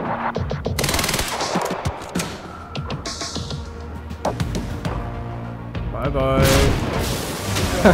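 Sniper shots ring out amid gunfire in the action game Quantum Break, with sharp cracks and booms scattered across the stretch and heavier firing near the end.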